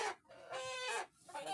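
A newly bought chicken clucks in two short, fairly faint bursts with a brief pause between them, heard close by indoors.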